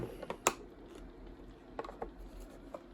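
A screwdriver works on the motor of a Miele Classic C1 Junior Powerline vacuum cleaner (SBAD1 motor), giving a few faint, sparse clicks and ratcheting ticks spread over a quiet background.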